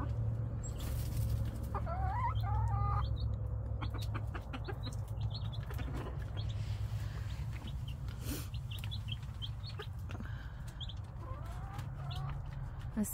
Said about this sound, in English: Here's the big chickens.